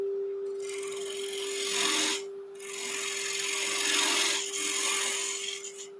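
A lathe tool cuts a tenon foot on a turned wooden bowl, a close scraping rasp in two long passes with a brief pause between, over a steady machine hum.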